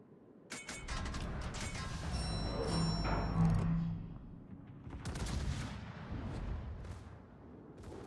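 Heavy naval guns firing in the video game World of Warships, a dense run of booming shots and blasts with mechanical clatter over a sustained rumble, loud and close throughout.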